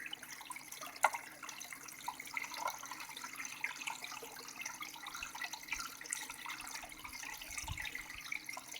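Water circulating through a closed-in cleaning machine system, a continuous low splashing and trickling with occasional drips and gurgles, fairly quiet and steady, with no voices.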